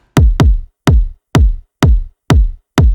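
Seven punchy electronic kick drum hits, layered with a clicky top kick, with a sharp clicky attack and deep booming tail, playing in a steady rhythmic pattern in melodic techno.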